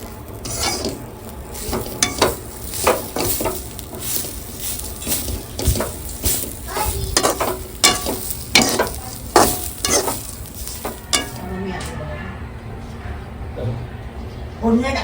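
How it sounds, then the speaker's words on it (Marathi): Oil heating in a pan for a Maharashtrian phodni tempering, sizzling under spoon stirring and clinks, with loud bursts throughout while people talk over it; the sound thins out near the end. "फोडणी टाकलात. तर आता पप्पांनी मोठे चमचे तेल टाकलंय."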